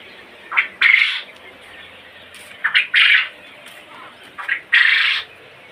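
On a quail farm, young quail chicks give three separate clusters of short, harsh squawks, each a quick pickup note and then a louder raspy burst. The calls are close and carry over a quiet background.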